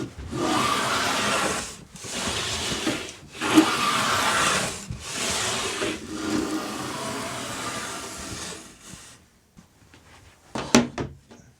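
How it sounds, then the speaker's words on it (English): Hand plane shaving the edges of wooden boards, several long, even rasping strokes separated by brief pauses, close and alone, ending with a few knocks of wood. "I'm going to grab a hand plane and put a straight edge on one side of all these boards."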